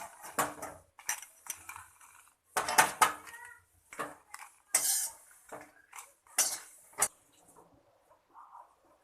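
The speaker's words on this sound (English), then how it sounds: "Now I am transferring this to mixer jar." Roasted spices and red chilies for Karnataka temple-style puliyogare are scraped with a metal spoon into a steel mixer jar. The sound is a series of close, sharp clinks and scrapes in irregular bursts with short pauses between them.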